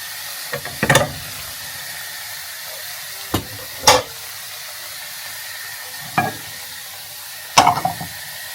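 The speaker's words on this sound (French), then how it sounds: "J'ai mis mon huile à chauffer. Je vais faire revenir mes pommes de terre. Waouh, ça saute." Potatoes frying in hot oil in a home kitchen, a steady low sizzle broken by four or five sharp spitting pops and stirring clatters spaced a few seconds apart, close and fairly loud with no talking.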